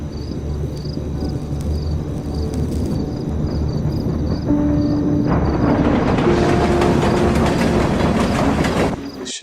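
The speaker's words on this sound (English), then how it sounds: "As a train fast approaches, the person jumps off the tracks at the last second." A train fast approaching on tracks through woods in the video game Life is Strange: Before the Storm, a low rumbling roar that swells and grows louder and brighter as it nears, then cuts off abruptly.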